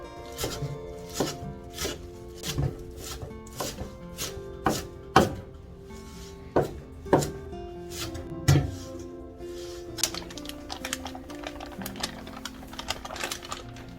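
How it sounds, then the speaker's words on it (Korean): A knife chops shepherd's purse greens on a cutting board in sharp, close thuds, a dozen or so irregular strokes that thin into softer taps toward the end, with nobody speaking. "냉이도 송송 썰을게요"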